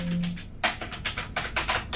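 Fingers type on the silicone keys of an AULA F3010 gaming keyboard, producing a quick run of soft, muffled key presses in uneven bursts, close to the microphone.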